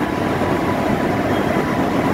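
A 10,000 horsepower locomotive converted from diesel to electric traction runs steadily, giving a loud, dense, continuous rumble and rush with no breaks.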